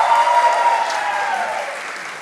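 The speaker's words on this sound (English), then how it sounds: "Pedro the first, please. Clap your hands for Pedro." Audience clapping at the final presentations of a German-Brazilian EdTech hackathon, steady applause that slowly fades over a couple of seconds while a tonal hum runs underneath.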